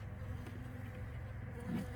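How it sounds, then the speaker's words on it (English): Steady low droning hum of honeybees buzzing close by in a beeyard, continuous throughout with a slight swell near the end. "The few remaining bees are right there."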